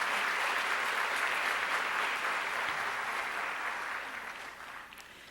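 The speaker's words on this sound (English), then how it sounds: "Please give them a round of applause for their work." An indoor lecture audience applauds committee members with dense, steady clapping that fades gradually toward the end.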